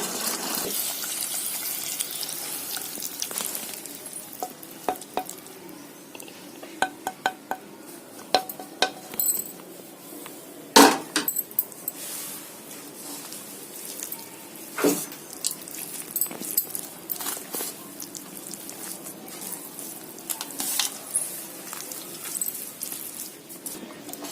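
Cooked rice being mixed with tamarind paste for temple-style pulihora, a wet, squelchy stirring with scattered clinks of a spoon against a wide vessel, steady and close with no talking.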